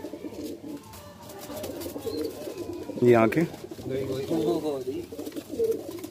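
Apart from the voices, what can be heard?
Deobandi pigeons cooing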